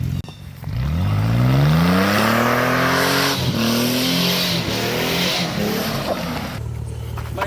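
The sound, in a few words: Nissan truck crawling off-road in 4-wheel low, gears clanking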